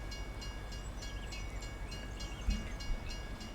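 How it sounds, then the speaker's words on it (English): A train rolling forward in Farming Simulator 25 produces a continuous low rumble with faint rhythmic clicking and a steady high whine, plus a couple of slightly louder knocks near the end. "If this was the train at the crossing where Doc lost his gearbox"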